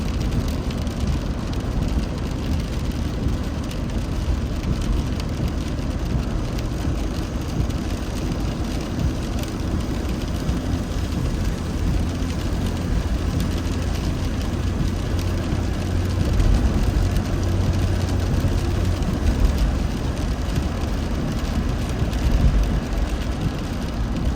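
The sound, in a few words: car driving on a highway in rain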